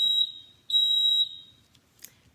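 Smoke-alarm style fire alarm during a test, giving two loud, piercing steady electronic tones with a short gap between them, then fading to quiet with a faint click near the end.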